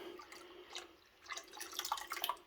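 Vinegar is poured into a pot of heated milk for homemade cheese, giving a faint, close trickle of liquid with small drips and splashes in a quiet kitchen.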